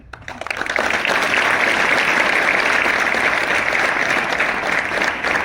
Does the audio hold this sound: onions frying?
no